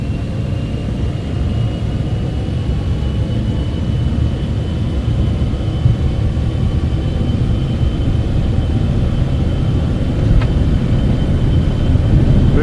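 Citation X jet engines roar steadily during the takeoff roll in the FlightFX simulator, a loud, dense and constant rumble with a faint high whine running through it.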